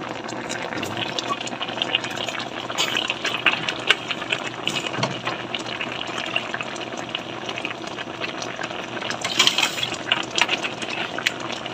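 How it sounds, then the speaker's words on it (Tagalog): Water is poured steadily into a pot of bananas cooking for minatamis na saging, giving a continuous splashing, bubbling wash that stays fairly loud throughout, with no talk. "So mag-add tayo ng tubig."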